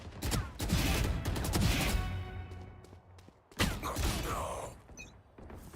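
Rapid bursts of gunfire in the tactical shooter Valorant, with loud rattling volleys, a pause, then another sharp burst and clicking weapon mechanisms toward the end.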